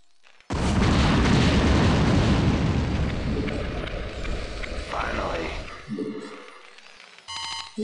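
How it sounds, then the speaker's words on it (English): A nuclear missile detonates in StarCraft as a sudden, massive boom that rumbles and rolls on for several seconds, fading out under game sound effects and a voice speaking near the end. "Nuclear launch detected."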